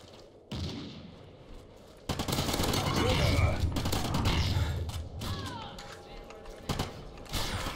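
Heavy automatic gunfire in Call of Duty: Ghosts, sustained rapid bursts with loud impacts and explosions filling most of the stretch after a brief quieter opening.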